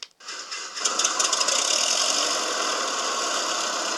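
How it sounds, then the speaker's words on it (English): A Cessna's engine starts up in a flight video game, with a brief sputter and then a steady, loud, rattling drone that runs on evenly. "So let's go with our engines on."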